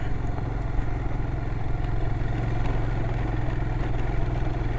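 An adventure motorcycle rides steadily across a farmer's field on the Black Hills backcountry route, its engine droning continuously close by with rough clattering over the ground and no talk.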